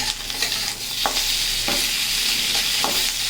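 Chopped tomatoes fry with browned onions in a pan, a steady close sizzle broken by a few scraping stirs of the spoon, with no talking.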